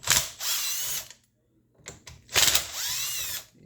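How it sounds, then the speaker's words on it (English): A Torx 27 driver backs out screws from the throttle assembly of an ECHO SRM-2620 string trimmer. Two loud, close whirring bursts come with a short pause and a few clicks between them. "So we're going to use a Torx 27 to remove the 4 screws."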